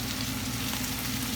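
Drained tinned ackee tipped onto saltfish cooking in a pan, giving a steady, continuous sizzle and frying crackle that holds at an even level throughout, with no voices.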